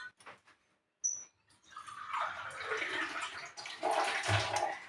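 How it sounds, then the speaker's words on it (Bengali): Water pours into a pot of potatoes for boiling, a rising rushing gush that starts after some brief clatter and grows fuller and louder as the pot fills. "আমি একটু জল দেব, আলুটা যেহেতু সেদ্ধ হবে।"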